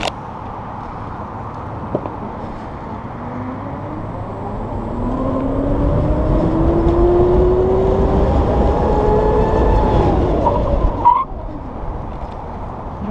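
A Govecs GO! T2.4+ electric scooter rides along with a steady whir and road noise, its motor tone sliding upward then easing off as it brakes to a stop, ending in a brief clunk.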